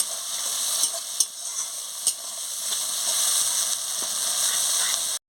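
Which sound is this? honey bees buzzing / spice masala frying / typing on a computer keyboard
spice masala frying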